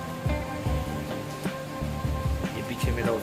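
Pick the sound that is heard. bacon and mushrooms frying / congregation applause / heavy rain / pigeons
heavy rain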